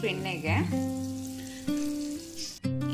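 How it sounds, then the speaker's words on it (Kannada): Mushrooms fry in butter in a pan, giving a soft steady sizzle, while steady tonal hums run underneath and a brief clatter comes near the end. "ಬೆಣ್ಣೆ ಜೊತೆ ತೊಗೊಂಡಿದ್ದಂಥ ಮಶ್ರೂಮ್ನ ಸೇರಿಸ್ಕೊಂಡು ಇದರಲ್ಲಿ ನಾನು ಫ್ರೈ ಮಾಡ್ಕೋತಾ ಇದ್ದೀನಿ"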